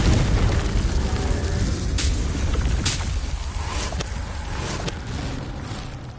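A Confringo blasting spell explodes in Hogwarts Legacy with a loud, dense booming roar that fills the whole stretch, broken by a few sharp crackling bursts and fading slightly toward the end.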